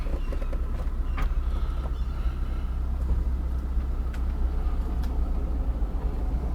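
A Mirage car on a quick test spin gives a steady low rumble of engine and road noise with light rattles, heard continuously from inside or close by, with no voices.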